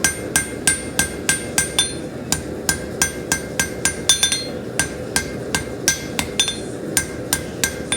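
A blacksmith hammers a drawn-out taper on an anvil, delivering a steady series of sharp ringing metallic blows at about two per second, loud and close with no talk.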